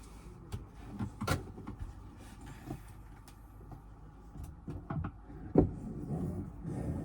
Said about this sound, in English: I'm gonna open up the hatch